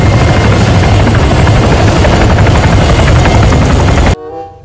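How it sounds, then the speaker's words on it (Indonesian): A toy army helicopter gives a loud, steady rotor whir with a high whine, continuous and close, cutting off abruptly near the end. "ada pesawat helikopter Army"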